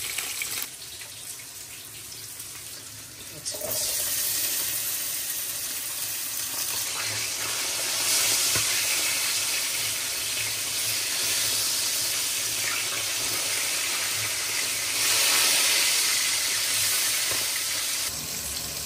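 Fish laid into a pan of chopped onions begins frying, a loud hissing sizzle that jumps up abruptly after a few seconds and then crackles steadily, swelling in places, with no talk.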